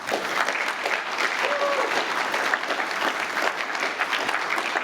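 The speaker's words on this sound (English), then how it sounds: "my deputy, Thomas Peltonen, who would really merit an applause," Audience at a conference breaks into sustained applause, steady even clapping from a large room, moderately loud and continuous with a faint voice briefly underneath.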